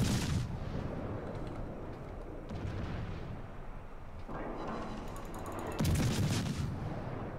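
Naval guns boom from a warship in the online game World of Warships, cruiser Mainz, with repeated heavy blasts and rumbling across the stretch, the loudest volley near the end.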